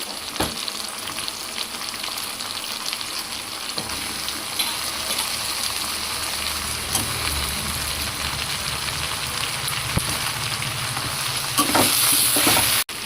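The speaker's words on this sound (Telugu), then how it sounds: "ఇప్పుడు ఇందులో వంకాయ ముక్కలు వేసేసుకుందాం" Brinjal pieces tossed into a hot pan, a continuous loud close sizzle with stirring scrapes and a few sharp knocks, swelling into a harsher burst near the end before cutting off, with no talk.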